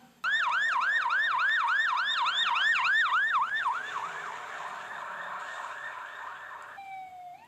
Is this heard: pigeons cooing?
no